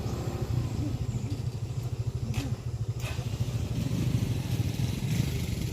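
A motorcycle engine chugs steadily and close, with a rough, uneven rumble and occasional clatter as it rides over a rough, muddy path.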